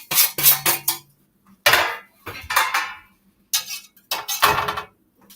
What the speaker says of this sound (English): I put just scrape them into the other dish right here